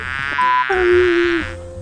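A housefly buzzes close by inside a pension during a first-time camping trip in Chuncheon, a steady, loud, high insect drone with shifting pitch over a continuous background hum.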